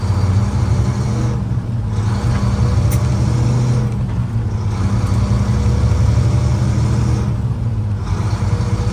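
Big rig truck engine droning loudly and steadily on the highway, a deep continuous rumble with slight swells in the cab, no talking over it.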